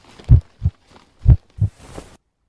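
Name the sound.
heart beating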